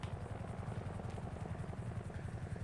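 An EMS helicopter flies overhead in the Redline RP roleplay video game, its quiet, steady rhythmic rotor chop continuing throughout with no talking.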